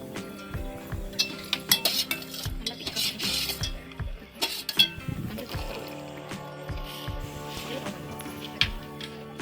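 Milk for fruit custard is stirred in a pan, with irregular metallic clinks and scrapes of a spoon against the pan over a soft liquid swirl, close by.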